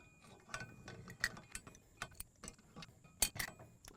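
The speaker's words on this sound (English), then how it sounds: "And then you just use wrenches to tighten it down." Wrenches tighten down a nylon lock nut on a spring-loaded flipper of a modular steel hostage target. Faint, irregular metallic clicks and ratcheting ticks come up close, spaced unevenly over a few seconds, with a sharper snap near the end.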